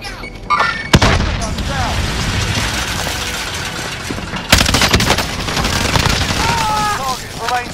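Loud, close gunfire and explosive booms in the Call of Duty: Modern Warfare video game, with sharp blasts and rapid bursts of shots over a dense battlefield din, mixed with voices.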